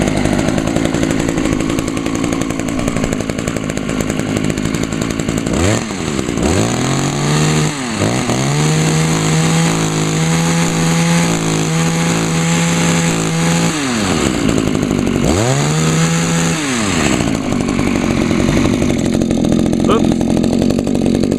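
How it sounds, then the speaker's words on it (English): A Homelite HT-21 hedge trimmer's small engine runs after a carburetor rebuild, revving up and down in a few sweeps under a constant loud engine drone that fills the whole stretch. "You can just barely hear the Homelite running."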